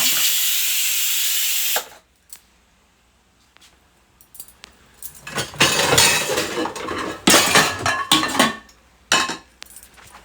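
A sharp burst of steam hisses from a pressure cooker whistle for about two seconds and cuts off, followed by quiet and then clattering pots and utensils.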